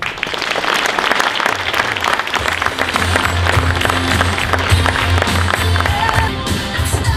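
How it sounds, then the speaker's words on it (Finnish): Sustained, dense applause from a gala audience at the 2015 Kerava sports awards, loud and steady throughout with faint low tones underneath and no voices. "Ja aplodit."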